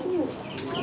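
Pigeons coo on a fancy pigeon farm in Natore, Bangladesh, a single short, soft murmuring coo close by with faint bird chirps behind it.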